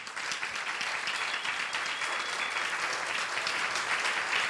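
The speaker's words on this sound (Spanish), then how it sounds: "Dele un fuerte aplauso al Señor." Church congregation applauding together at a pastor's urging during a sermon, a dense, steady wash of clapping from many hands that holds at an even level throughout.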